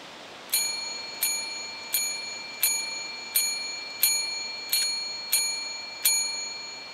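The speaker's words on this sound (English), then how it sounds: "Come to the sound of the bell." A bell rings in a cemetery at night, eight bright metallic strikes at a slow, even pace, each ringing out and fading before the next, clear and fairly close with no voices.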